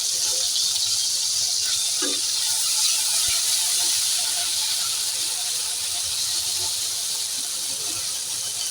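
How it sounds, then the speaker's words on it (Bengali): Ground spice paste hitting hot oil in a pan, a steady, close, broadband sizzle and hiss that holds evenly throughout with faint crackles. "তেল বসিয়ে দিয়েছি, দিয়ে দেবো মশলাটা।"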